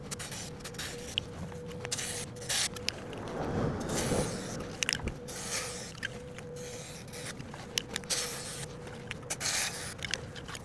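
White lubricant goes onto a Honda CB125F motorcycle, its chain by the look of the sound, as a close hissing spray with scraping and rubbing bursts that come and go and no talk over them.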